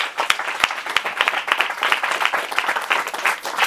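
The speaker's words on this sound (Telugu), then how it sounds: "ఒకసారి క్లాప్స్ కొట్టి మేపచ్చు." A church congregation claps together in a lively rhythmic round of applause, loud and close, with sharp individual claps standing out over the dense patter.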